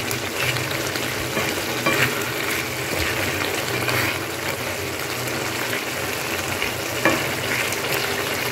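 Prawns fry in a pan in a home kitchen, cooked dry like a chicken fry. A steady, close, busy sizzle runs throughout, with occasional stirring clicks and no talk.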